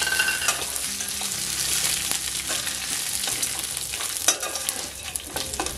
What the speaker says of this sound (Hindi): अब हम अपना ऐड करेंगे इसमें कड़ी पत्ता।